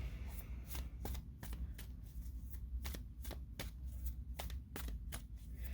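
A Skyrim-themed tarot deck being riffle-shuffled up close, giving a steady run of sharp, crisp card flutters repeating about every half second over a low background hum.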